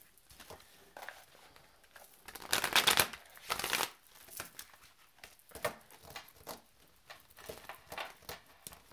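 Tarot cards are shuffled by hand in a series of soft riffling bursts and taps, one louder stretch in the middle, close and quiet with no talk.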